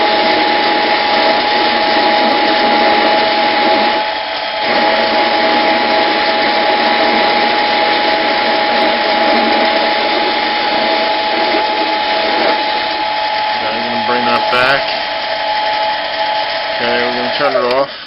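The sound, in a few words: Harbor Freight 7x10 mini metal lathe cutting, reducing diameter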